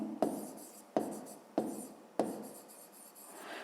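Pen or pencil writes an answer by hand on paper, four distinct scratching strokes, each starting with a sharp tap and trailing off, close and isolated.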